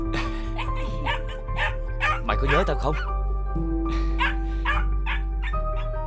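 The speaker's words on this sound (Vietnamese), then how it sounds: "Cho đem con chó và con chim vào đây." A dog barks in a Vietnamese fairy-tale drama, giving short yips and bow-wows between lines of dialogue over a steady background tone.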